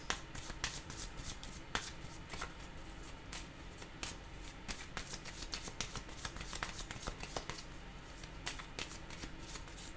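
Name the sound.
tarot cards being shuffled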